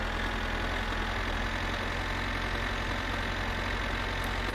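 Steady, unbroken drone of a tractor engine in the driving game My Summer Car, a low idling rumble that holds constant with no talk over it.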